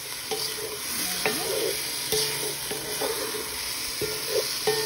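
Chicken adobo being stirred in a sizzling pan, with a spoon scraping and knocking against the pan at irregular intervals over a constant frying hiss, close and clear, with no talking.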